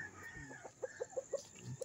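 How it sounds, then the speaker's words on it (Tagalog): A rooster calls in a quick run of short, bright notes, fairly faint and a little distant, with a steady hum of background noise underneath. "Tumitilaok na naman yung aming manok."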